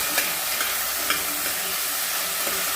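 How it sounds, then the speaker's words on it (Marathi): Drumstick pieces sautéed in a pan with a cumin tempering: a dense, even sizzle throughout, punctuated by a few faint scrapes of a spoon, close and steady over a few seconds. "चला शेवगा छान परतून घेऊया आता"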